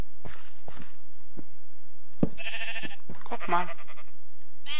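Two close bleats from a baby sheep in the video game Minecraft, separated by about a second, come after a few soft footsteps, with someone speaking briefly at the start.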